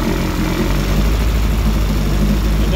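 Outboard boat engine idling in a test tank after a carburetor rebuild, warming up and running rich: a loud, steady, continuous low drone with no breaks and no talking.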